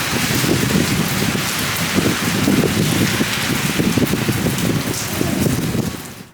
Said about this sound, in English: We're gonna move because it's raining.